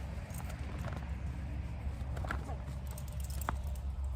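Hooves of a mule stepping backward during groundwork, soft clip-clop footfalls on the ground, fairly close, running beneath steady outdoor background noise.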